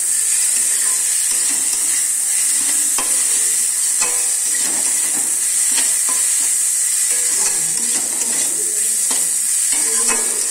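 Veg chili chowmein is stirred with chaat masala in a frying pan, a loud steady sizzle and hiss broken by frequent utensil scrapes and taps against the pan, with no speech.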